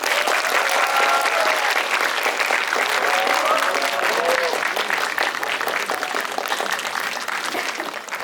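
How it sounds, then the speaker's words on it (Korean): Sustained applause from a sizable cinema audience at a film stage greeting, steady and dense clapping that holds strong throughout and tapers slightly toward the end, with faint voices mixed in. "박수 부탁드립니다"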